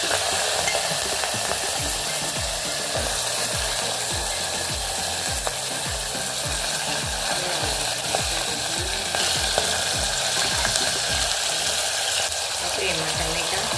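Vegetables tipped into hot oil seasoned with cumin and asafoetida for a Gujarati green black-eyed pea and potato curry, giving a loud, steady sizzle and crackle that runs the whole time, with faint rhythmic stirring clatter beneath.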